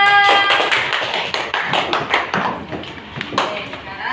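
A fifth-grade classroom of students applauding a student group, with many hands clapping in a dense, steady patter for about four seconds and a few young voices mixed in.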